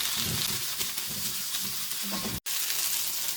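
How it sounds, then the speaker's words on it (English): One medium onion, sliced, fries in oil in a pan while being stirred: a continuous crackling sizzle with soft scraping strokes and a brief cut-out near the end. "Add 1 medium sized onion slice. Mix well for a minute till the onions become soft."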